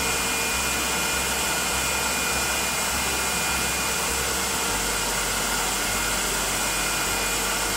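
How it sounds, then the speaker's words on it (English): A wood lathe spins at high speed while wax is pressed against a small-diameter turned Christmas ornament, giving a steady, even whirring hiss that runs unbroken from start to finish with no voices. "I have to speed the lathe up even more to get enough friction to spread the wax"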